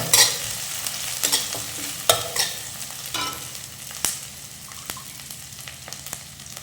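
Curry leaves drop into hot oil for lemon rice and set off a steady, close sizzle, broken by sharp crackles and pops with the occasional scrape of stirring.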